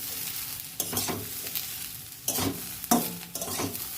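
Potatoes and bitter gourd sizzle together in a pan with a soft, steady frying hiss, broken by several scraping stirs of a spatula. No one speaks.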